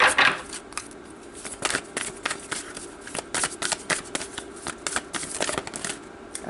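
Tarot cards shuffled by hand in a quiet room, a steady run of crisp riffling and flicking bursts, close and fairly loud, with no talking.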